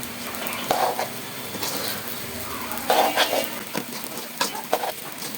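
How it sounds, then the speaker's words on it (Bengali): Rice for pilau frying in a pot beside beef cooking, with soft sizzling under repeated scraping and clinking of a spoon stirring against the metal, a few louder strokes standing out. "চলতেছে পোলোয়ার চাউল ভাজা"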